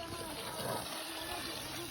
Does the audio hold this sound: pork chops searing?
no